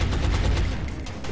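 A heavy cannon fires in the XCOM Long War video game, a short burst of rapid repeated booming shots with a dense, rumbling low end, loud and with no voices over it.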